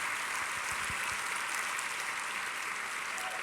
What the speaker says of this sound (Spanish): Si le va a dar un aplauso a Cristo, déselo con todo su corazón.